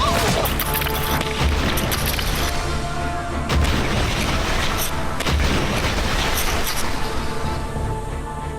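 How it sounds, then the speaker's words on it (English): An explosive charge blows apart a wooden barrel filled with beer, sharp booming blasts repeating several times amid loud rumbling debris and a noisy outdoor background. "How much more destructive will the exact same explosive charge be now it's surrounded by liquid?"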